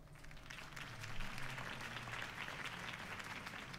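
A crowd applauds at a political rally in the Batman Telltale video game, a continuous, fairly quiet wash of many hands clapping with no talk over it.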